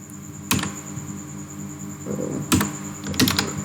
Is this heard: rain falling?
no